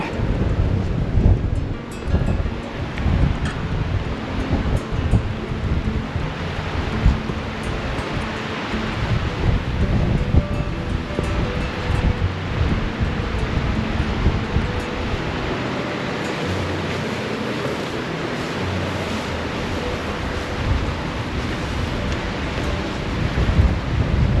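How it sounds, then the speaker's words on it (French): Rushing water of the Cascade d'Ars waterfall near Aulus-les-Bains in the Ariège mountains, heard from above: a continuous, loud, dense roar with gusty wind buffeting the microphone and no speech. "je vous emmène au-dessus de la cascade"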